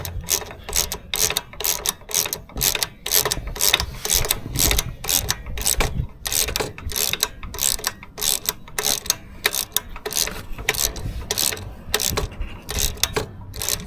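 A ratchet with a 12mm socket tightening the center stand spring on a 2023 KLR650, a rapid, close clicking run in quick strokes with brief pauses, continuing steadily throughout.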